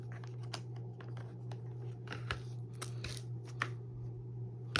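Cards from the Lost Ruins of Arnak board game being handled on a table, quiet scattered shuffles, slides and flicks over a steady low hum.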